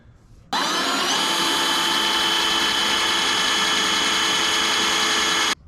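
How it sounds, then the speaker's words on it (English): A power drill whines steadily at high speed for several seconds, drilling out spot welds on a 1960 Ford F100 pickup cab, loud and close, starting and stopping abruptly, with no talking. "I'm gonna start drilling out the spot welds on this."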